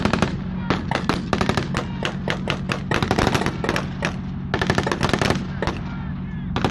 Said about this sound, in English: so he cannot lay fire with anything but the machine gun